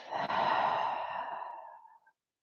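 A long, deep exhale out through the mouth during a guided yoga breathing exercise, one close, breathy rush of air that fades out after about two seconds.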